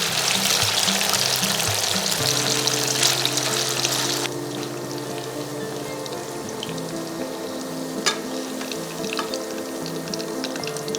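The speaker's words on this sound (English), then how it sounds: "Fry the muithas in batches." Chitol fish dumplings (muitha) fry in batches in hot oil, a steady bubbling sizzle that is louder at first and then settles into a softer, continuous crackle with a few sharp pops.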